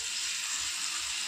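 Chicken hara kababs are laid in a butter-brushed pan over low heat, producing a soft, even hiss of sizzling that holds steady and quiet for a moment.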